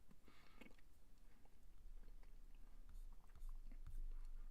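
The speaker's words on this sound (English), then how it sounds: "I'm gonna eat a couple of few nuts, so please those who don't like the chewing sound coming in, please, you can lower the volume." Nuts chewed and bitten close to a microphone during a live stock-market stream, giving faint repeated crunchy bites over a steady low background hum, with no talking.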